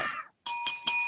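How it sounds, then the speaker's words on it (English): A bell signals the end of a wrestling podcast, ringing with bright metallic tones that sound twice or three times in quick succession after a brief silence, close and clear with nothing else heard. "There's the bell, so we know what that means."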